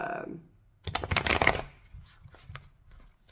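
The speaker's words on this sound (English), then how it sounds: "I feel like I've shuffled those plenty." Tarot cards being shuffled in a quick burst of crisp riffling clicks, close and fairly loud, followed by a few softer scattered card sounds.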